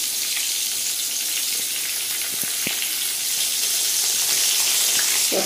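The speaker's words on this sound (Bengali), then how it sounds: "পটলগুলোকে একটু লাল লাল করে ভেজে নেব" Pointed gourds (potol) frying in hot oil in a wok until reddish, giving a continuous, moderately loud sizzle with a few soft knocks of a spatula, and no talking.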